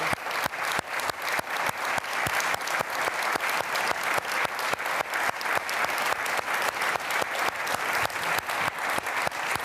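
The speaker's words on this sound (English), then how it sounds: "I think if we clap to the families here as a" Sustained applause from a large conference audience at a Munich security forum, dense rapid clapping steady and loud throughout with no voices on top.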